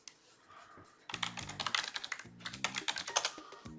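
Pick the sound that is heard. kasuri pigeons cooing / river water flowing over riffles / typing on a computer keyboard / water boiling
typing on a computer keyboard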